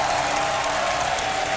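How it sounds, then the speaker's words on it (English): Crowd applauding and cheering at a StarCraft II grand final esports event at DreamHack Summer, a dense steady wash of clapping that fills the arena with no break. "That wonderful crowd ready for some StarCraft action."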